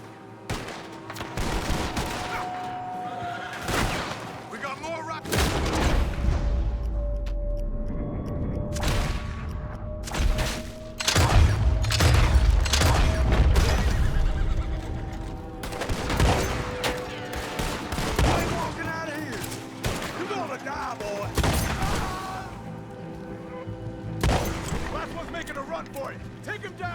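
Rockets explode and gunfire crackles in Red Dead Redemption 2, with repeated loud blasts, booming impacts and scattered volleys over a long stretch, while voices shout in between.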